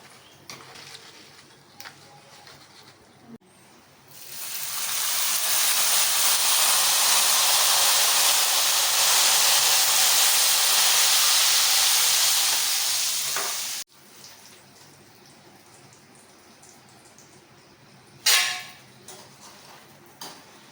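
A loud, steady hiss of sliced chips deep-frying in oil fills the middle stretch, then cuts off abruptly, leaving quiet room noise and a brief clatter.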